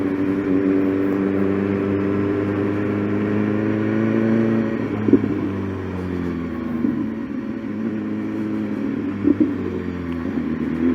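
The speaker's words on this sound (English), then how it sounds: "That down blipper is so smooth, it'll even do it at low RPMs." A BMW S1000RR superbike engine hums steadily at low revs on the road, and two brief, smooth quick-shifter downshift blips rise out of the even drone several seconds apart.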